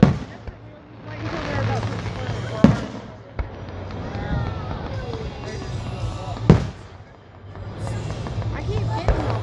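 Fireworks explode at an outdoor display, with a few sharp, loud booms and scattered crackling pops spread across the scene while people chatter and talk nearby throughout.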